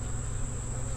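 Honey bees buzz in a steady, dense drone around beehives on a summer farm, with a continuous low hum and high insect whine holding even throughout.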